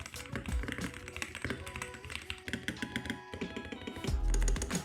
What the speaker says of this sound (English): Here is the sound test of this keyboard.